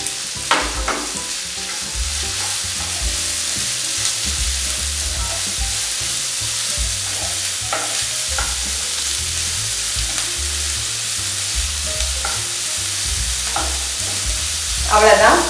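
Onion, asafoetida, carrot and peas sautéing in a pan for kuzhi paniyaram, an even sizzle under repeated spatula stirring and scraping strokes, close and steady throughout, with a louder clatter at the end and no talking.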